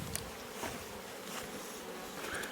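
Bees buzzing close to a beehive on a farm, a dense steady drone of many insects with individual bees whizzing past nearby.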